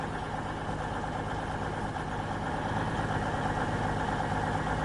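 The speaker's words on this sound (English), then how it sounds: "that sound reminds me of train spotting at Reading, that Voyager sound" A Voyager diesel train engine idles in the Train Sim World 6 video game on the Riviera Line, a steady, loud low rumble with a constant mechanical drone throughout and no voices.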